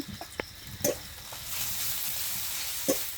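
Ginger dropped into a hot pan for a village-style dal tadka, a close, steady sizzle of frying with a few sharp taps and clinks of a utensil at the start and near the end.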